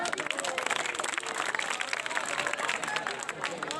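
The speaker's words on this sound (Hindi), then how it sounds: "तालियां होंगी आपकी साथ।" Schoolchildren clapping and stirring at a magic show, a busy, quieter patter of applause mixed with crowd noise and movement, with voices mingling in the background.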